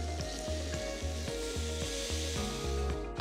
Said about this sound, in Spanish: Ahora lo que vamos a hacer con nuestra sartén es aplastar el tofu hasta que se haga la textura de un huevo revuelto